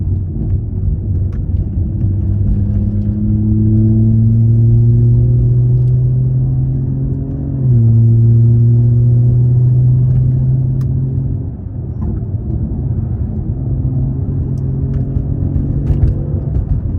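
A BMW G30 540i with a 530 hp engine pulls hard through 4th gear on a mountain road, its drone rising steadily, dipping briefly at the shift to 5th, then climbing again, loud and close from inside the cabin.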